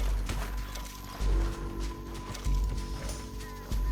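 Horse hooves clop in short irregular bursts in the Red Dead Redemption 2 video game, fairly close, with a low background hum.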